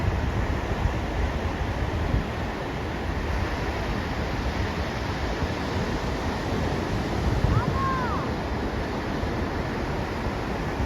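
Sea surf rolling onto a beach in the afternoon where people are surfing, a steady broadband wash of breaking waves mixed with wind rumble on the microphone, continuous and fairly loud throughout.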